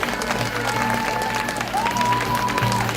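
Audience applause for the winning lycée team at a 2014 school quiz: a dense, steady wash of clapping that holds for three seconds, with a thin sustained tone running through it.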